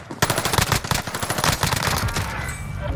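Rapid automatic gunfire rattles in a fast, continuous burst in a first-person shooter game, loud and close with dense overlapping shots and no talk.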